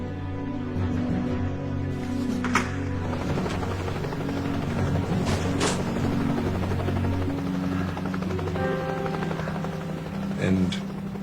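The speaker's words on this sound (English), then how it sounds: "the sound of the helicopter" A helicopter flies overhead, its continuous loud rotor drone thudding and steady throughout, with a few sharp bangs and a voice heard faintly over the noise.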